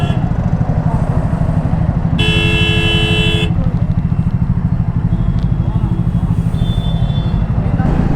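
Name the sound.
vehicles honking horns in a traffic jam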